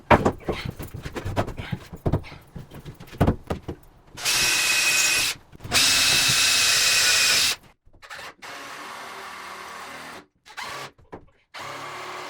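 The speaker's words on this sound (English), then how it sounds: "I like drilling things at different angles" Close power drill in a shed interior build, running in several sustained bursts of a few seconds each, separated by short clicks and handling noise as the bit drives into wood.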